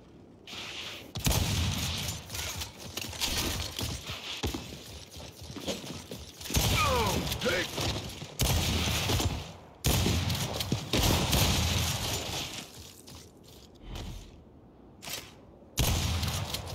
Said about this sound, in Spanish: Y yo estoy disparando primero